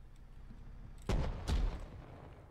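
Gunfire in the survival game Rust, two loud sharp shots about half a second apart, fired through walls, standing out against a low background hum.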